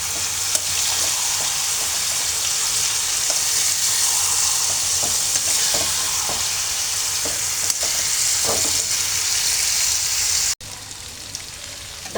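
Leafy greens such as gourd or pumpkin leaves fry with dried fish (shutki) in a pan, giving a loud, constant bright sizzle with occasional soft stirring knocks, then a sudden cut and a quieter final stretch.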